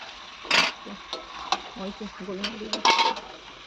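Chicken stirred in a cooking pan, with a few sharp spatula scrapes and clinks amid a low sizzle, close and brief, with a voice speaking in between.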